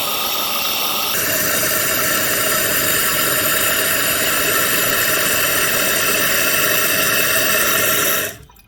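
A toilet fill valve refills the tank with a loud, steady hiss and rush of water that runs continuously, shifting slightly in tone early on, then cuts off abruptly at the end.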